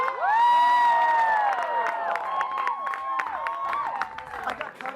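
An audience at a sports show breaks into loud applause and cheering with whoops, sustained and fading over several seconds, with shouted voices mixed in.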